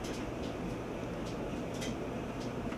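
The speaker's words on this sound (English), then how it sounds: "I got a dryer running in the background and also a window unit in the shop that's running." A clothes dryer and a window air conditioner in a shop run together as a steady, even broadband hum and whir, constant throughout with no talking.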